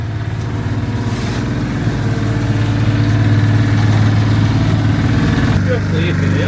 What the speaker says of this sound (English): we're having to use a micro digger due to access